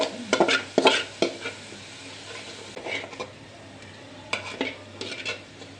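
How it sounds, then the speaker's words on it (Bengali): Onion and garlic fry in a pan until brown for a masoor dal tempering. A steady sizzle runs under bursts of a utensil stirring and clinking against the pan. "পেঁয়াজ রসুনটা একটু ব্রাউন কালার করে ভাজবো"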